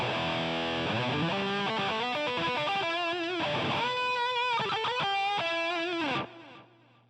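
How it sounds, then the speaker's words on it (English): Electric guitar played through the rat distortion effect of a Boss GT-8 multi-effects unit, giving a loud, saturated riff of chords and single notes that runs steadily for several seconds before a ringing chord decays at the end. "There's also a rat distortion."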